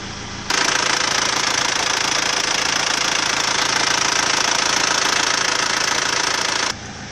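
A stock Isuzu TFR engine fitted with a standard thermostat runs steadily, a loud close rumble with a fast knocking clatter that starts abruptly, holds even for about six seconds, then drops away.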